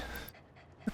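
A lizard doggo in the Satisfactory video game pants briefly with quick breathy puffs, then gives a short soft whimper at the end.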